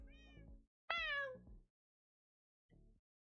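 A pet cat meows three times, with a mid-length call, a louder rising-then-falling meow, and a brief soft one after a pause, close and clear with no talking.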